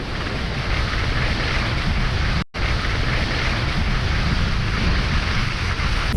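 Loud, steady wind roaring and buffeting a microphone on a skier descending a slope, with a brief dropout partway through, no voices.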